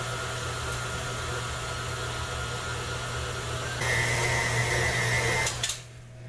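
Electric mixer whirring as it mixes cake filling, a steady motorized hum that steps up in speed and pitch partway through, then cuts off near the end.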